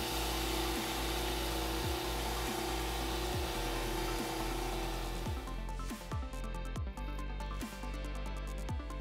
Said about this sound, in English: I could grab hold of the sprue with my lathe, and that really helped with polishing the inside of the mugs